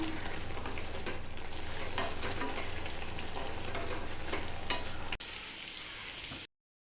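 Potatoes roasting with Kashmiri chili powder in a pan sizzle and fry steadily, with a continuous hiss and occasional stirring scrapes, close and fairly loud, before a brief clatter and an abrupt end.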